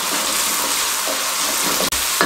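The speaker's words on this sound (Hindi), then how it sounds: "2 टेबलस्पून लहसुन अदरक का पेस्ट शामिल कर देंगे और 1 मिनट के लिए इसके अंदर अच्छे तरीके से प्याज के साथ इसकी भुनाई करेंगे।" Garlic-ginger paste is sautéed with onions in a pan for a restaurant-style beef karahi, giving a steady, close hiss of frying that continues without talk, broken once by a brief click near the end.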